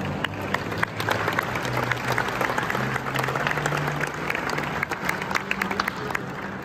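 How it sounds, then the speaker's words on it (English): Audience applause at a horse show with riders in an arena, a steady crowd clapping filling the space, with scattered claps and some murmuring underneath. "Let's give them an applause."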